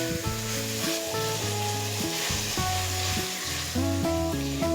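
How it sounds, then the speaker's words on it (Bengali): Ground spice masala sizzles in oil for chicken polao, a loud continuous frying hiss with stirring, while music plays throughout. "মশলা ভালোভাবে কষিয়ে নিয়েছি। মশলা থেকে তেল ছেড়ে দিয়েছে।"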